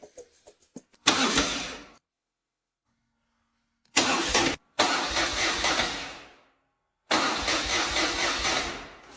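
A rusty BMW R1200 motorcycle engine cranks and sputters in short bursts, cuts out, then catches and runs loudly in several separate roaring stretches with silent gaps between.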